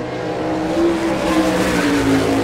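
A sprint car circling the dirt oval during qualifying at an All Star Circuit of Champions Ohio Speedweek race in Rossburg, Ohio, its engine droning loud and steady with a sustained high whine throughout.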